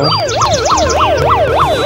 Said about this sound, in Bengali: হাসপাতাল অ্যাম্বুলেন্স